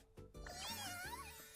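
A cute little cat in the anime To Be Hero X gives a short, high, wavering meow that rises and bends in pitch, close and clear, with no talk over it.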